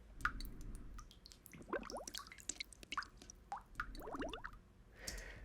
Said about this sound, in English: the only other thing that was used here was the raindrop files